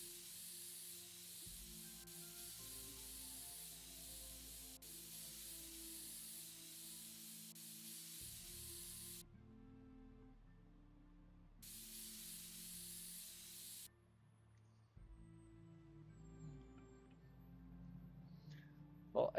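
A can of compressed air sprays in long, steady hissing bursts to dust out a computer, loud and close, with brief pauses between blasts and a few quieter moments at the end.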